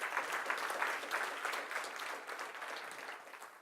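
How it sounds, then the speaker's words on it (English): Steady audience applause for a volunteer at a magician's show, many hands clapping at an even level throughout, fairly distant and unbroken. "give Pan a round of applause"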